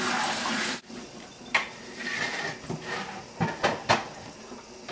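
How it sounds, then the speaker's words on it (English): Salad leaves rinsed under a running kitchen tap, a steady close rush of water that cuts off briefly, then resumes with splashes and knocks as the leaves are handled. "I'm just going to rinse out the leaves a little bit more"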